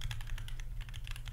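Quick, steady clatter of keys on a computer keyboard, close and fairly quiet over a constant low hum, with no voices.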